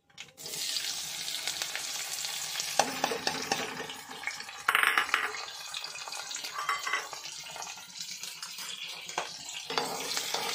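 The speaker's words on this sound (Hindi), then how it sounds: "मेरा छौंक जल रहा है, मैं इसमें डालती हूँ तड़का" Hot oil sizzles steadily as tempering spices fry in an old blackened iron kadhai, with bursts of stirring and clattering in the pan.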